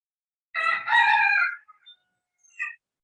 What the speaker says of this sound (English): That's old Smokey the rooster. He gets excited when he hears human voices.